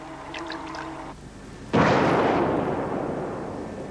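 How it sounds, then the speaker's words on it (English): A dust explosion test on equipment built for a food factory, run by safety testers: one sudden loud blast bursts out and dies away in a long roaring rumble, following a brief tonal sound with no talking. "Testers from the Health and Safety Executive are seeing how it stands up to dust explosions."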